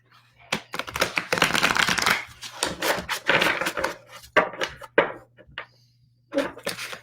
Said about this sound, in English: these cards are a bit stiff, so I'm just gonna really shuffle these as much as I can